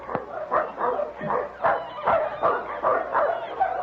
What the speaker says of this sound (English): Do you hear that? A dog team.